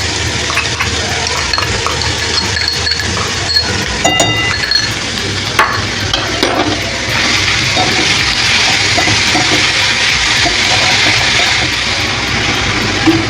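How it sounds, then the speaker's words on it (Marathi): Carrots sizzling in hot ghee in a pan for carrot halwa, a steady loud frying hiss with occasional clinks of a utensil against the pan, the sizzle growing brighter partway through. "आपलं तूप चांगलं तापले त्यात आपण गाजर टाकते गाजर मस्त तुपावर आपल्याला भाजून घ्यायचे"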